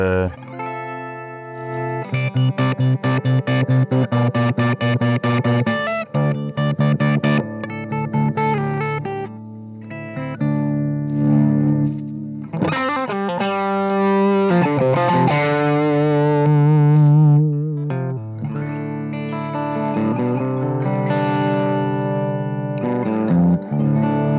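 A 1969 Marshall Plexi amplifier is driven loud by an electric guitar, playing crunchy distorted chords and riffs with sustained notes and brief pauses, close and full, no talking.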